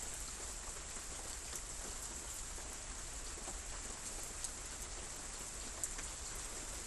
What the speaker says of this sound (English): We weren't sure we'd ever get any rain ever again.